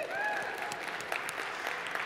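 Conference audience claps for Ontario, a brief burst of crowd applause filling the room, with some whooping and a faint voice mixed in.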